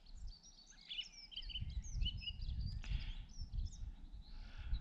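A dunnock singing on open ground near Minninglow Hill, a quick high warbling twitter that is faint and somewhat distant, set over steady low wind noise.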